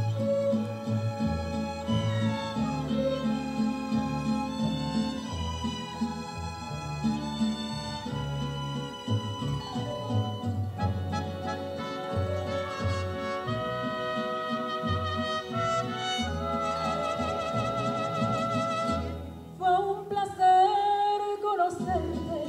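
An orchestra, choir and mariachi from Mexico's SEDENA play a medley in concert, a full continuous ensemble with sustained harmonies and shifting melodic lines throughout, ending with a brief change in texture.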